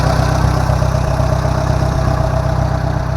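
An old tractor engine idles with a steady low, throbbing chug, loud and close, with no voices.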